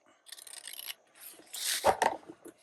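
A blade trims the edge of a glued paper folio, giving soft raspy rubbing strokes in two short bursts, quiet and close with no talking.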